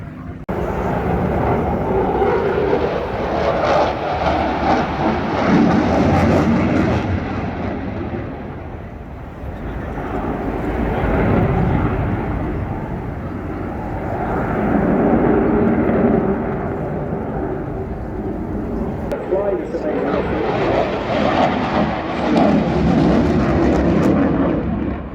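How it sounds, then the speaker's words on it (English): A display aircraft departs after a victory roll at the Eastbourne airshow, its engine a broad distant roar that swells, fades and swells again over steady wind noise. "Alistair throwing in a victory roll there as he departs off to the eastern side"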